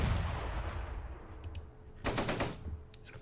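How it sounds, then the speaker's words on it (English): Machine gun fire in a World War II tactical battle game, a sharp burst of rapid shots around two seconds in, with scattered distant gunfire and low rumble beforehand. "Right now, we can just open fire with our machine gun."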